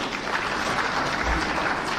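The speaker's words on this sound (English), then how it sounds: "we give him a clap" An audience claps steadily for the President at a Mt Kenya Foundation meeting, a dense, even wash of hands held at a constant level for the full stretch with no voices over it.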